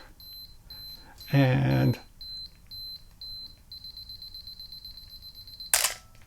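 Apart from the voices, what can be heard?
Canon AE-1 Program camera self-timer beep and shutter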